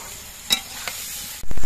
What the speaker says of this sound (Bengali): ব্রকলিগুলো যদি এইভাবে কষিয়ে রান্না করা হয়